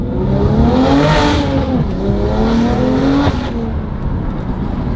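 A BMW M2 Competition's exhaust revs hard and loud, pitch climbing and dipping twice before settling into a throaty idle, with no voices.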